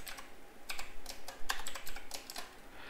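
Code is typed on a computer keyboard while building a WebSocket dashboard for a Raspberry Pi Pico W, with close, fairly loud bursts of quick key clicks and brief pauses between them.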